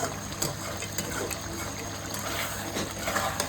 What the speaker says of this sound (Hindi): पानी जो बचा के रखा था ना दाल वाला पानी, वो हमने इसमें डाल दिया